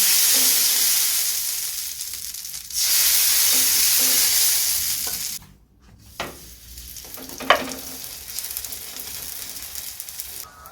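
Katmer pastry sizzling in a greased pan, a loud steady frying hiss that cuts out briefly, then returns softer with small pops and crackles.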